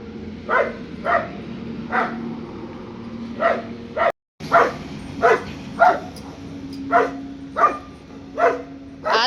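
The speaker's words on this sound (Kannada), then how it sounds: "ನಾಯಿ ಬತ್ತೈತಲ್ಲ ಅಂತ ಈ ನಾಯಿ ಬಗ್ಲುತ್ತಾ ಇರೋದು." A dog barks repeatedly in sharp, evenly spaced bursts, close and fairly loud, with a steady low hum in the background and a brief dropout partway through.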